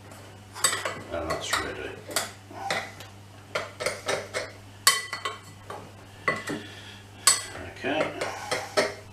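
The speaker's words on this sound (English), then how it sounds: "So mixing those up in my little bowl" Dry ingredients for keto bread being mixed in a small bowl, with repeated close clinks and scrapes of a spoon against the bowl in an uneven rhythm, and a voice speaking briefly near the end.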